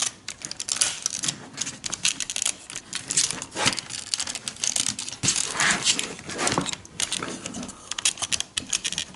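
Plastic parts of an X-Transbots MX-68T Conechrome transforming robot toy are folded and snapped into place, making a dense run of close, crisp clicks and ratchety taps with no voices.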